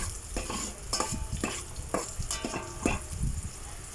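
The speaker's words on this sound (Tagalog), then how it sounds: "Halo-haloin lang po natin mga labs para hindi masunog." Ginger and onion sizzling in a frying pan for a Filipino sinigang fish dish, with a spoon stirring and scraping in steady repeated strokes, close and clear, no talking.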